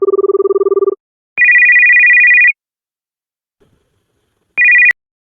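An electronic phone ringtone sounds loudly alone, a pulsing low-tone buzz followed by two sustained higher beeping tones separated by silence.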